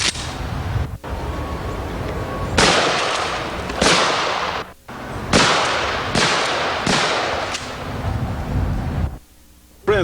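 Mossberg 590 shotgun fitted with a Van Comp barrel firing outdoors, about six loud, sharp blasts, each followed by a short decaying echo and spaced a second or so apart.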